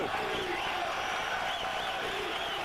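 A basketball arena crowd at a Marquette at South Florida game cheers after a block, a sustained roar of voices under a commentator's talk.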